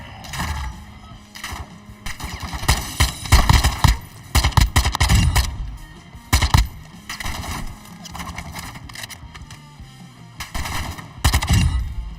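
Gunfire in the Call of Duty DMZ game rattles in repeated bursts, rapid automatic shots mixed with single cracks, loud and close with brief pauses between volleys.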